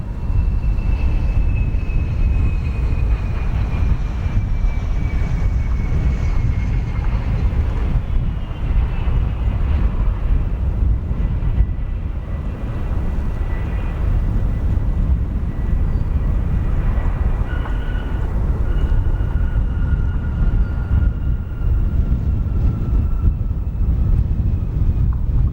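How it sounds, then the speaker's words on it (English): A United Airlines Boeing 787-10 Dreamliner arriving at O'Hare International Airport, a steady loud jet roar with a slowly falling whine, continuous and wind-buffeted throughout. "United Airlines 787-10, Dreamliner, flight 952, arriving from Munich"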